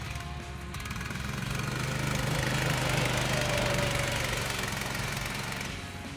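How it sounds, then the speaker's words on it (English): Homemade DIY motorsled with a 20 HP engine running nearby, a steady rumbling drone that swells as it passes closer and then eases off, with no voices. "The sled Tofora with 20 HP engine."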